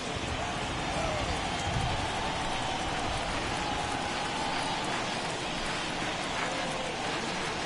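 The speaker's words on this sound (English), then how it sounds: "It's coming down a little heavier now." Steady rain pouring on a ballpark in the baseball video game MLB The Show 21, a dense continuous hiss filling the whole stretch, with faint crowd murmur underneath.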